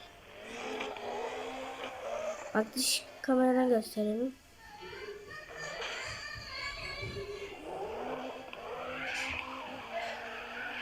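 A car in a racing video game revs its engine and skids with screeching tires, while someone talks over the game sound.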